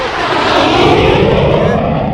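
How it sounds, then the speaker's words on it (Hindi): An Indian Air Force fighter jet touches down on the Lucknow-Agra Expressway during the Gagan Shakti exercise and takes off again, producing a loud, steady, close roar of jet engine noise that fills the clip without a break. "भारतीय वायुसेना का लड़ाकू विमान इसने ये देखिए टच डाउन किया और टच डाउन करते हुए फिर से इसने उड़ान भर दी है"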